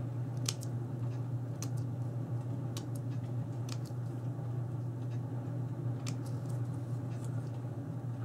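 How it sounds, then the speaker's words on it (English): Scissors make small repeated snips into folded black paper to cut a fringe, sharp crisp cuts spaced irregularly over a steady low hum, close by. "with the black piece, I fold it in half, and then I just start making little snips, like a fringy type"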